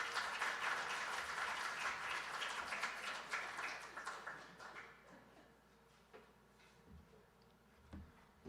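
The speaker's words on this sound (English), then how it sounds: "Big round of applause." Audience applause for a guest invited to the stage at an indoor event on justice, songs and redemption, a steady wash of clapping that thins and fades out over the second half, leaving scattered claps.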